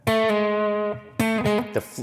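Electric guitar with distortion kicked on, played live on stage at an SNL performance: a sustained, buzzy held chord rings for nearly a second, then breaks into short choppy stabs, loud and with no talking over it.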